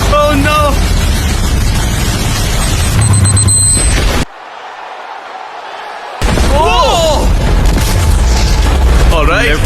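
A game-show explosion hazard on a course where cars drive through a danger zone: heavy booming blasts and rumbling, with an abrupt drop to near-quiet midway, followed by more loud noise and excited voices throughout.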